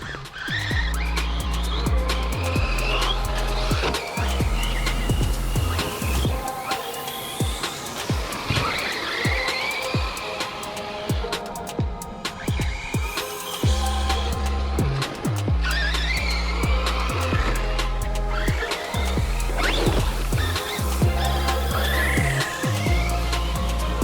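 An Arrma Mojave 4S RC car with upgraded suspension and new tyres runs off-road, its electric motor whining loudly in repeated revving bursts, with tyre scrabbling and skids, close and continuous throughout.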